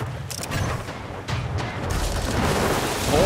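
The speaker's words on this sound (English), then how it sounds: "those cannons bombard the shit out of us" Cannons in Anno 1800 bombarding ships at long range, a rumbling run of deep booms and thudding blasts over a noisy, crackling wash, several impacts in quick succession, loud and without voices.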